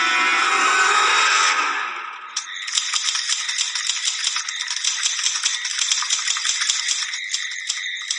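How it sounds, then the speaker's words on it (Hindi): After a brief burst of hissing noise, rapid typewriter keystrokes clatter continuously, close and fairly loud. "टाइपराइटर की बटन दबने की आवाज सुनाई दे रही थी"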